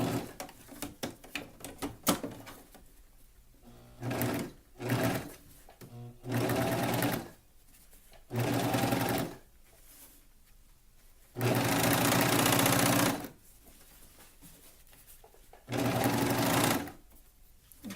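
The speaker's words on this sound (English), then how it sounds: "This is a serger cover stitch combo. It's the Viking Husqvarna, well, it's a Husky Lock S21." Husqvarna Viking Husky Lock S21 serger and cover stitch combo machine stitching fabric for a tankini top, running in several separate bursts of steady whirring, each one to two seconds long, with quiet pauses between runs.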